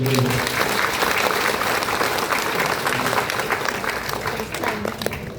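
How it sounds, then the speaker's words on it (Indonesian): A studio audience claps for a guest named Pak Heru on a health talk show, producing dense sustained applause that stays loud for several seconds and slowly tapers, with a voice faintly beneath it. "Kita tepuk tangan dulu untuk Pak Heru."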